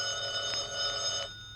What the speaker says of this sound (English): Answer the phone, Mary.